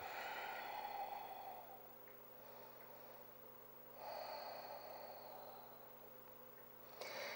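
Ujjayi breathing during a yoga session, slow audible ocean-like breaths through the throat, a soft inhale-exhale cycle repeated about twice, close and fairly quiet with no talk.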